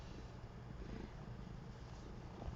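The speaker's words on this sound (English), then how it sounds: "Can you hear her purring? She's a loud purrer." A house cat purring loudly up close, a soft steady rumbling throb that runs unbroken and fairly quiet throughout.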